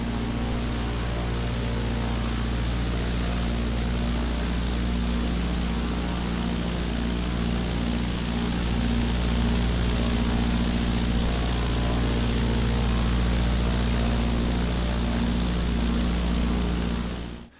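A Piper PA28R Arrow's propeller engine idles on the ground in a flight simulator, a steady, even drone with a strong low hum and a constant propeller buzz, loud and unbroken throughout with no talking.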